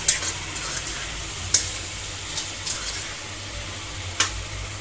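Garam masala being stirred into a chicken liver fry in a pan, with soft scraping strokes over a low, steady sizzle and a few sharper clinks of the spoon against the pan.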